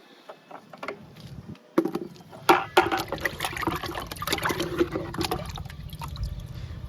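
Kitchen waste liquid poured onto a drumstick plant in a garden, heard as uneven splashing and trickling up close, starting with small drips and growing into a fuller, steady pour.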